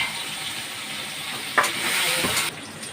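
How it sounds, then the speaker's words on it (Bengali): Sliced onion and pointed gourd fry in a wok of hot oil with nigella seeds, producing a continuous hissing sizzle and a short burst of louder spitting and stirring midway. "আর পটলটা ভাজতে দেব।"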